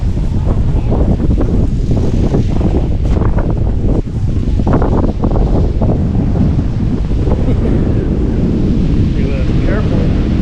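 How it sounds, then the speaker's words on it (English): Strong wind gusts roar across the microphone throughout, a constant heavy rumble, with a person speaking faintly beneath the noise. "Windy."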